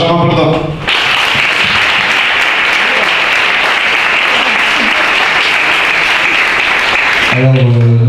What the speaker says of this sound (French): Je vous demande d'applaudir Benjamin Baudin.